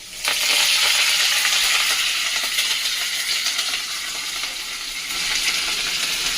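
Garlic and curry leaves are dropped into hot oil for poha chivda and burst into a loud, bright sizzle with crackling. The sizzle eases slightly, then holds steady, close and with no speech.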